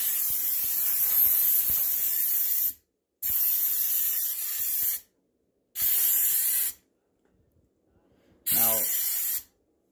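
Several loud bursts of hissing air from a Ryobi compressed air duster cleaning PC equipment, four separate sprays with short silent gaps between them, the last ending with a brief whirring tone.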